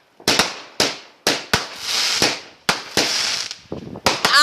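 Fireworks go off on bonfire night in a run of about nine sharp, loud bangs at uneven intervals, each one close by with a short crackling tail. No one speaks over them.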